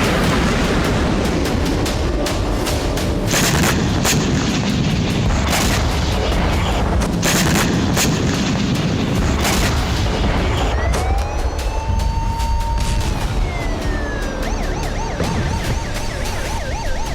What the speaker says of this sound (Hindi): दिन के उजाले में इसी तरह एक के बाद एक मिसाइल विस्फोट हुए।